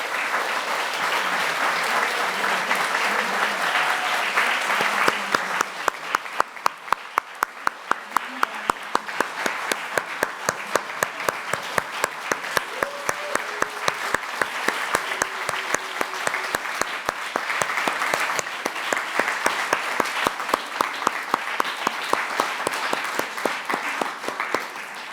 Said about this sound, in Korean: 우리 함께 큰 박수로